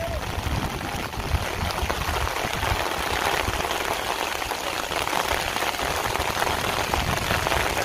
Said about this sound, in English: It's not light rain.